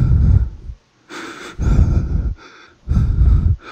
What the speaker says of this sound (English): I don't like that breathing in my ear.